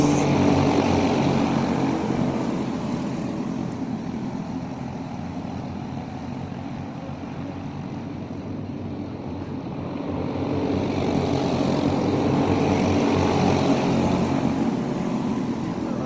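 Micro sprint cars racing a heat race at Ohsweken Speedway, a steady loud engine drone from the pack that eases off slightly midway and swells again as the cars come back around.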